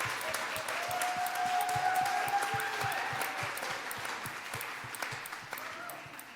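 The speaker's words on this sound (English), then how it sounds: "huge roaring applause for Yelena Keller" An audience at an artists-in-residence roundtable gives a warm round of applause for Yelena Keller. The clapping is steady and fairly close, with a faint tone held underneath.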